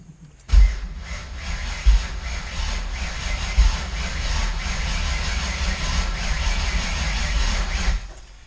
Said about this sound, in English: crank it a little bit. We're gonna try to get the oil moving through it, make sure there's no weird noises